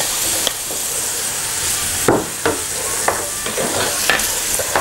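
Garlic and onion sauté in hot oil in a pan, a steady bright sizzle broken by several sharp scraping stirs, close and loud with no talking.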